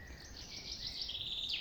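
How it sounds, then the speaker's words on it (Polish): Birds calling at dusk in a quiet evening setting, a thin steady twitter drifting in and out at a distance, faint and alone with no voices. "posłuchać, jak ptaszki układają się do snu"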